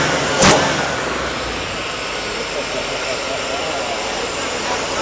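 Repaired Toyota Land Cruiser engine idling steadily and continuously at moderate loudness, with a brief sharp burst near the start and a broad even roar throughout.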